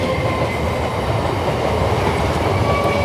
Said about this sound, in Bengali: ট্রেন যাচ্ছে দেখেছিস